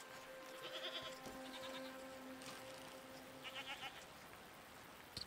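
Goats bleat in a video game, a few short calls spread through the clip at moderate distance over a steady ambient bed, with no talk.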